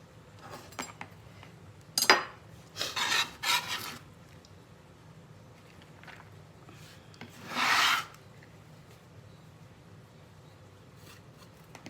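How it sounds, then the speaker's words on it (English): A bench scraper slides across a cutting board to gather lettuce, giving several short raspy scrapes in bursts with pauses between, close and moderately quiet. "I'm going to take my bench scraper and put my lettuce over here in this little thing"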